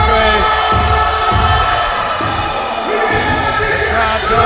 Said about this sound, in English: The crowd going absolutely nuts.